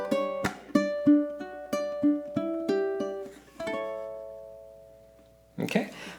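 A ukulele plays a single measure of a Motown song: plucked notes and quick strummed chords ring out in a steady rhythm, close and clear, followed by a short pause and a brief burst of voice at the end.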